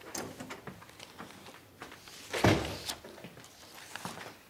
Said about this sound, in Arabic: ادخل واقفل الباب وراك